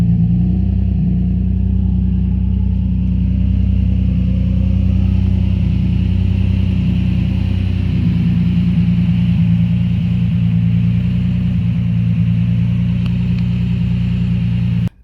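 Nissan Z with a turbo kit and an Apexi muffler exhaust idling nearby, a loud, steady, deep engine rumble holding an even tone throughout.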